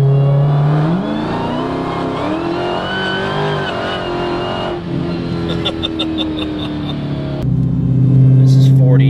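A 1048 wheel-horsepower Dodge SRT Demon accelerates hard in the Forza video game, its engine roaring and rising in pitch through the gears with a shift partway, loud and continuous, while a person talks over it.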